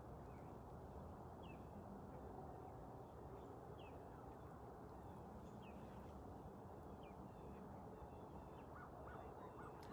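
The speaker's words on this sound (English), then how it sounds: "I hear the songs of birds." Bird calls with goose-like honks rise over a dense, steady background hum, scattered chirps appearing every second or two throughout.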